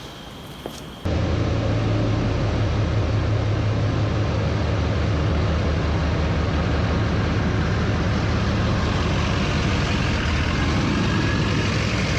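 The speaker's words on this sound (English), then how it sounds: "we're gonna bring the truck in and get her back up on the hoist" A Duramax diesel pickup truck, being prepped for truck pulling, rumbles to life after a brief quiet start and then runs with a loud, steady idle drone close by, no talking over it.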